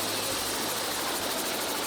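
A helicopter engine in the United Arab Emirates near Dubai runs as a steady, loud, broadband whine and rumble, with constant turbine hiss and low throbbing, heard up close with no talking.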